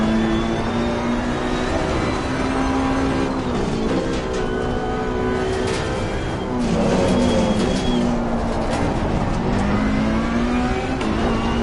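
A Ferrari Challenge race car's engine howls steadily at high revs around Imola in the Assetto Corsa Competizione sim racing game, rising and falling through gear changes for about twelve seconds with no voice over it.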